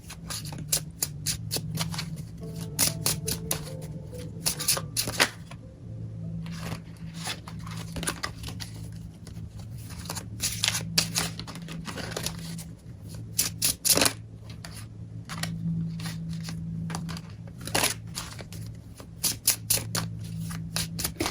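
Tarot cards being shuffled by hand, a long close run of crisp riffling and flapping bursts with short pauses and a steady low hum underneath.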